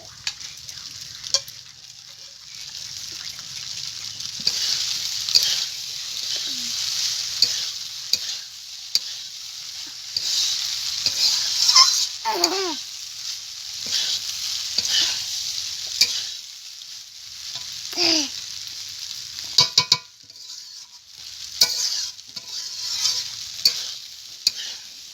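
Fried eggs stirred into spiced pasta frying in a pan, a continuous bright sizzle with intermittent scraping and spatula knocks over a long stretch, close and moderately loud, no speech.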